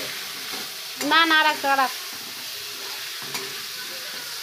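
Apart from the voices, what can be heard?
frying and stirring eggplant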